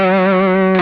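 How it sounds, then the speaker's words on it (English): An electric guitar through the distortion side of an ambient pedalboard pedal, giving a single loud, sustained, compressed and fuzzy tone that rings steadily before a harsh burst at the end. "heavy kind of distorted rock sound, that's when I kick in the distortion side of this."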